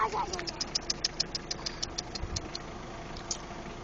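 Car engine idling with a fast ticking rattle, steady and close, fading slightly toward the end.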